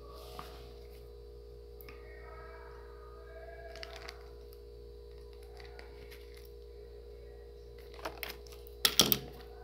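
Thin wire is snipped near the end with a brief, sharp crack, after soft scattered handling noises over a low steady hum.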